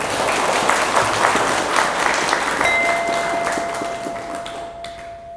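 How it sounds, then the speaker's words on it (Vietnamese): A large audience at a Buddhist dharma talk applauds in a thick, continuous wash of clapping that slowly tapers off, with a steady electronic tone sounding in the latter half. "hãy dâng cho một tràng vỗ tay thật lớn nào"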